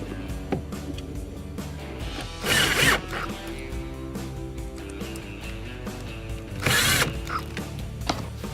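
A ratchet tool drives 2 1/4-inch screws back in, fastening a control assembly into a Maytag refrigerator cabinet: two short, brisk ratcheting bursts a few seconds apart over a steady background.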